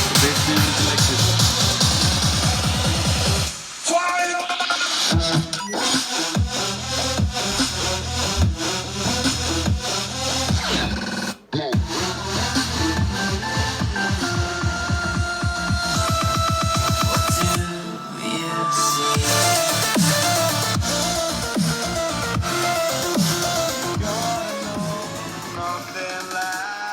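A JBL Flip 4 portable Bluetooth speaker plays bass-heavy music for a sound test, loud and continuous with a steady thumping low end, briefly dropping out twice before resuming.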